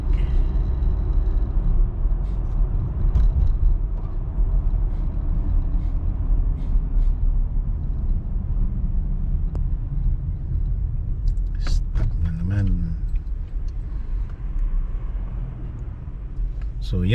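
Heavy road traffic on a Toronto street near Queen Street, a continuous low rumble of cars, buses and trucks passing nearby, with a brief squeal of brakes or an air brake near the end.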